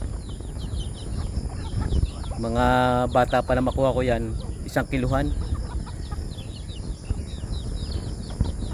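Large chickens, bigger than native birds, are heard with a rooster crowing loudly nearby and clucking around it, while someone talks over the farmyard noise.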